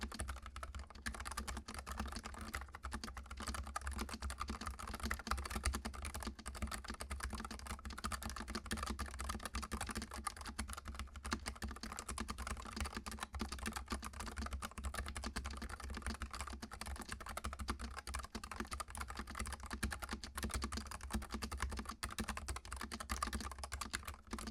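Steady, continuous typing on a NuPhy Air75 wireless mechanical keyboard with low-travel, non-tactile switches, producing dense, soft, somewhat muted keystrokes heard close up with no talking.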